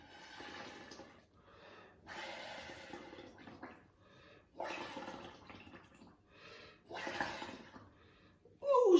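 Bubbling gurgles from three straws blown into a large bowl of water, coming in several bursts of a second or two, separated by short quiet breaths.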